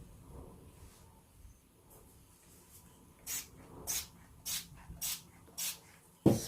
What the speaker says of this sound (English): Spray that down like that.